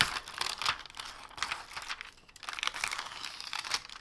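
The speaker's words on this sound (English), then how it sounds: "Gotta be careful peeling off this plastic, remember." Plastic film being peeled back from a Woolworths beef ragu lasagne tray, a steady run of close crinkling and crackling with brief tearing bursts and no talk.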